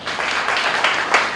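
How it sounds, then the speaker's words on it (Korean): A short, dense burst of audience applause fills a Gyeonggi Provincial Council colloquium debate hall. The even clapping lasts just over a second without a break. "금종래 위원장님께 큰 박수 부탁드립니다."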